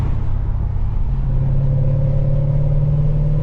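Close, loud rumble of a tuned Lexus RC F's 5XX-horsepower V8, with a manual transmission, revving and pulling hard on a backroad drive, its pitch climbing steadily as it accelerates from inside the cabin.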